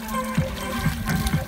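Water sloshing and trickling into a kayak on a river outing, a close, uneven gurgling with small splashes and drips, brief and busy.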